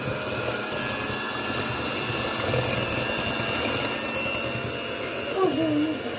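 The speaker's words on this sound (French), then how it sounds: "On va mixer." Electric mixer whipping cake batter with sugar for a chocolate bûche roll cake: a steady, close motor whir that runs unbroken, with a brief rise in pitch near the end.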